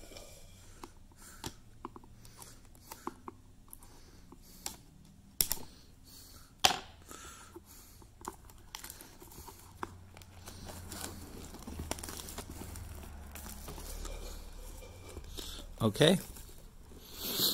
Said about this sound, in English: so there goes the plastic wrapping, and then there goes the shell